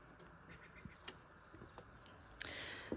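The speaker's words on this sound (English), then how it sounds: "Just letting you hear the birds for a little bit." Faint bird calls chirp now and then outdoors at Big Bear Lake, brief and scattered over quiet background hiss, with a couple of sharper, closer calls near the end.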